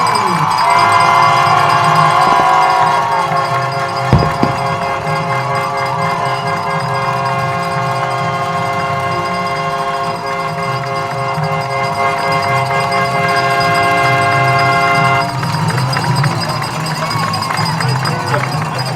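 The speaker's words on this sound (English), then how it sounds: "Capacity crowd here at Ray Skillman Stadium." Capacity crowd at Ray Skillman Stadium roaring as the Center Grove Trojans take the field for a high school football game against Southport in Indiana: a loud, sustained roar that fills the whole stretch, with steady tonal sounds running through it.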